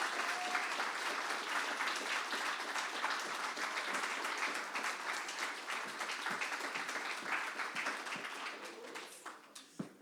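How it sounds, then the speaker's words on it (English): Steady, dense audience applause fills a book launch room for the full length, a broad wash of many hands clapping at even loudness before thinning and tapering off at the very end. "Clap her all the way up, all the way up."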